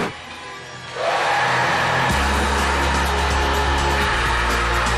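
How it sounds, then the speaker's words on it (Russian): A hair dryer switches on after a quiet second and blows with a loud, steady broadband whoosh, its motor tone shifting slightly partway through, close and continuous. "бери фен, бери фен."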